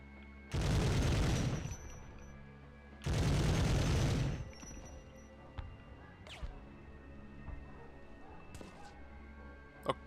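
Gunfire in the Medal of Honor video game: two loud, sustained bursts of rapid fire close by, each lasting about a second, followed by scattered fainter shots and thuds in the background.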